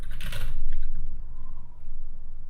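Someone types on a computer keyboard, producing a quick, close run of key clicks at the start that soon thins into a few lighter taps over a steady low background hum.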